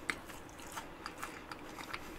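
Someone bites into a crunchy matcha Nutella macaron straight from the fridge, giving several small, sharp crunches and chewing noises spread over a couple of seconds, quiet and close with no talking.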